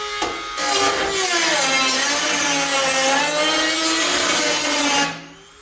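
A loud power tool grinds and whines steadily while cutting a hole in the metal of a 1971 Ford Ranchero for about five seconds, then winds down and stops.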